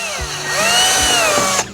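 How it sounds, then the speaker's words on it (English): A power drill bores drainage holes for air roots in a plant pot, its motor whining loud and steady for well over a second, rising with the load before cutting off. "I want to show you how I'm going to drill drainage holes for the air roots"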